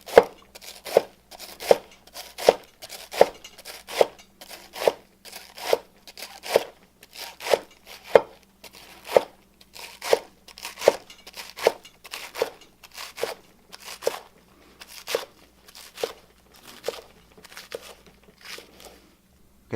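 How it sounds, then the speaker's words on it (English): A knife slicing romaine lettuce thin for a cabbage salad, about thirty crisp, regular chops in a steady rhythm on a cutting board, close and clear with no talking. "now we're just gonna cut our romaine"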